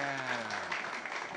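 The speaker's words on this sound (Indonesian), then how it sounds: "Tepuk tangan yang meriah." Lively applause from an audience at a comedic stage show, brisk clapping heard over a voice that speaks at the start and then drops away.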